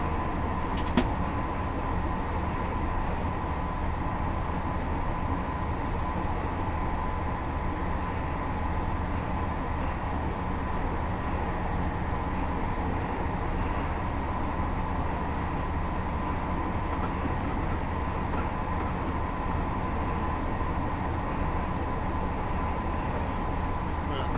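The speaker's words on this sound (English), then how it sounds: "So fun having a 158 just flying down the strip." A Class 158 train running fast along the East Coast Main Line in Train Sim World 4, a steady droning engine and rolling rumble throughout, with a voice speaking over it.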